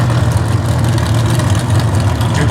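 A Comp Eliminator B Dragster with a 469 cubic inch old-style engine in a 2007 Hagen chassis idles at the starting line at the US Nationals in Indy, a deep, steady, rumbling lope held close and loud.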